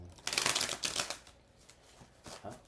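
Close, crisp riffling of a deck of cards being shuffled, a quick flurry of flaps followed by a softer second burst near the end.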